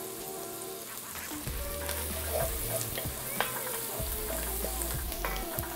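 Garlic and celery frying in a pot for Hoppin' John, a steady close sizzle with occasional stirring scrapes and clinks throughout, no talking.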